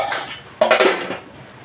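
A spoon scraping and clanking against a pot while prawn biryani is mixed, a few close metallic knocks and scrapes followed by quieter stirring.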